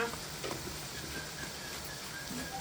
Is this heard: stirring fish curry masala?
yes